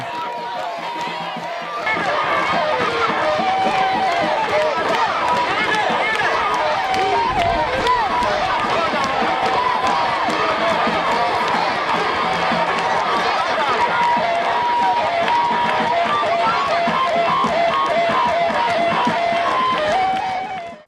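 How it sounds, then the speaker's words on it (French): A large, dense crowd gathered at an outdoor political meeting in Koumaïra, Mali, for a visiting party president: steady loud hubbub of cheering, chanting voices and rhythmic noise that swells in after a brief quieter start and holds throughout. "Le président de l'URD a droit à un véritable bain de foule."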